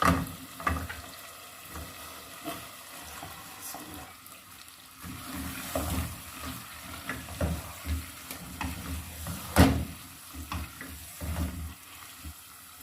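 Sautéed spinach is stirred into chicken korma in a pan, giving a soft, continuous sizzle with scraping stirs and intermittent clatters of the spoon against the pan, moderately close and fairly quiet.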